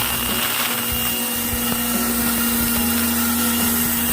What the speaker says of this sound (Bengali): তো দেখো, আমি একটা মিক্সি জার নিয়ে নিয়েছি। এবার আমি জিরেগুলোকে পেস্ট করে নেব।